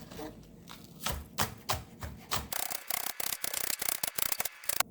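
A knife chops scallions on a cutting board: scattered taps at first, then a quick, steady run of crisp chops, faint and close with no talking.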